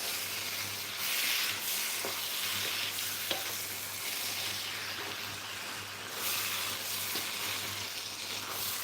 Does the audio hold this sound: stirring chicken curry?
yes